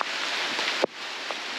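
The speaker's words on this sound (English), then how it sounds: "Oh, it's raining here." Rain falling in a tropical rainforest in the Atherton Tablelands, a soft steady hiss of drops on leaves, faint and continuous with a brief knock near the middle.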